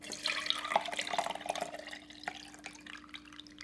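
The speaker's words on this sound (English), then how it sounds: "we're going to strain it into another mason jar." Herbal hair rinse trickles and drips as it is strained into a mason jar, a steady close pour in the first two seconds that thins to scattered drips.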